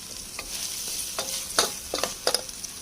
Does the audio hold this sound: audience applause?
no